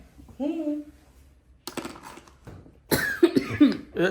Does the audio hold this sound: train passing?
no